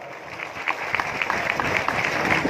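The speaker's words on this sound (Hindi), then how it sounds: "ਜ਼ੋਰਦਾਰ ਤਾਲੀਆਂ ਪਹਿਲੇ ਭਾਰਦਵਾਜ ਸਾਹਿਬ ਵਾਸਤੇ" An audience at a Maa Tripurmalini devotional chowki gives singer Shiv Bhardwaj a burst of dense, continuous applause with crowd murmur, steady and fairly loud throughout.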